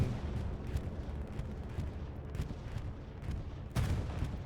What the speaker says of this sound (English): Bombing run coming in on the east side.